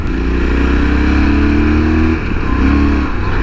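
A 2011 Yamaha Super Tenere XT1200Z in touring mode accelerates, its engine note climbing steadily through rising revs, then dipping briefly at a gear change before pulling up again, loud and close.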